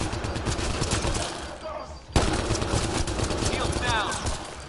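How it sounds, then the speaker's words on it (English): Heavy gunfire crackles through a Mass Effect Andromeda firefight, dense overlapping bursts with a sharp loud jolt midway, mixed with battle noise and voices. "Heavy fire!"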